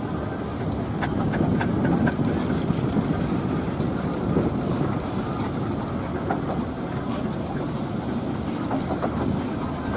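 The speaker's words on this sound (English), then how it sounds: "nice to see Richard Hazel brought the engine back to the area all these years" A steam engine rumbles past in a grand parade at the Woodcote steam rally, a steady loud low chugging and rolling clatter with faint hissing, continuous and close throughout.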